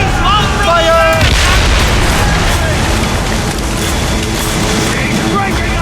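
Ship cannons fire in a naval battle in Assassin's Creed Rogue, with booming blasts set against dense battle noise and shouting voices.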